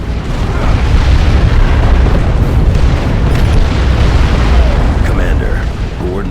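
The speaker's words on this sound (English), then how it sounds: "Barrage incoming! Allies forces, find me that damn mortar battery!" Mortar artillery barrage in Warhammer 40,000: Dawn of War II – Chaos Rising, a continuous loud rumble of overlapping booms and blasts filling the whole stretch, with a voice speaking over it.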